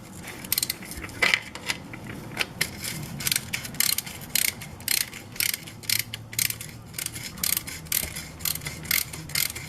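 Drain bolt being loosened on a Harley Sportster 1000 transmission with a ratchet, giving a rapid run of sharp metallic clicks that settles into a steady, close rhythmic clicking, with no talk.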